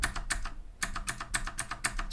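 Rapid clacking keystrokes on a Battletron gaming mechanical keyboard, close and fairly loud, in uneven bursts with a brief pause, no talking.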